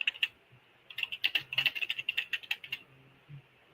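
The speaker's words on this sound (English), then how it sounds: "Good old mechanical gaming keyboard." Rapid clicky keystrokes on a mechanical gaming keyboard, a few isolated taps and then a quick burst of typing, close and fairly quiet in an otherwise hushed room.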